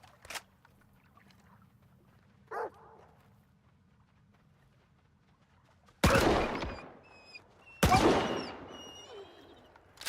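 Mutant dogs in the video game Stalker bark and snarl in two sudden loud bursts, mixed with sharp gunfire after a stretch of quiet with faint scattered sounds.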